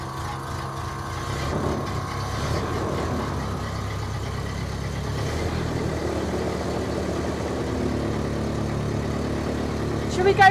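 A 1920s Ford Model A engine ticks over at idle after starting, a low uneven rumble with loose mechanical knocking that holds fairly steady close by, with a few clunks near the end.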